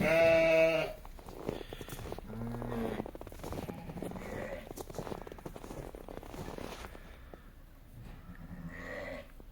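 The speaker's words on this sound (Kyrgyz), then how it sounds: "Жаш койлор." Young sheep, pregnant ewes two to four teeth old, bleating on a farm; a loud close bleat opens, followed by several fainter bleats among shuffling and low background noise.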